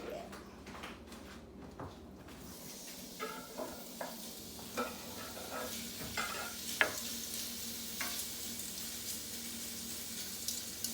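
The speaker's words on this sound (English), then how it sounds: "I have a little olive oil in the pan, but I'm just going to add my sausage. I'm going to let my sausage just kind of cook a little bit." Italian sausage cooks in a little olive oil in a pan, sizzling softly and steadily with occasional scraping stirs and clicks at close range, with no speech.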